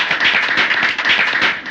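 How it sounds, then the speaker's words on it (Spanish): An audience claps together in a dense, even burst of applause, close and loud with no talk over it. "vamos a aplaudir a Martí"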